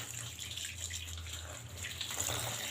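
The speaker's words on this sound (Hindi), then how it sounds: "इसे निकालने के बाद इसके ऊपर हम थोड़ा सा ठंडा पानी डालेंगे" Cold tap water pours steadily over freshly drained boiled macaroni sitting in a basket, a faint continuous rushing splash with a low hum underneath.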